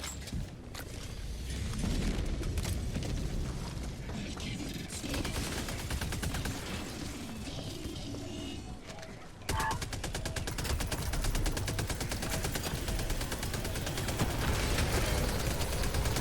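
Sustained gunfire in the Helldivers video game, with dense rapid bursts and a fusillade of shots rolling over a noisy battlefield, the firing growing sharper and more rapid partway through.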